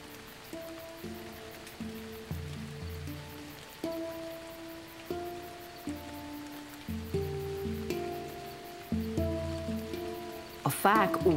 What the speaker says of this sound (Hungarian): Az esőcseppek ágról ágra, levélről levélre gördülnek, míg végül kis csermelyekként lezúdulnak a törzsön.